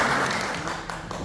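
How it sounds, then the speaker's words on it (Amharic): A church congregation applauds together, a dense, sustained wash of clapping that fades slightly toward the end. "እስኪ አጨብጭቡ ለእግዚአብሔር።"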